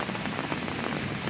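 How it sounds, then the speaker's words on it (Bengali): Rain pours down over a home courtyard during a downpour, making a dense, steady hiss that fills the whole moment with no voices. "কত সুন্দর একটা পরিবেশ, বৃষ্টি হচ্ছে।"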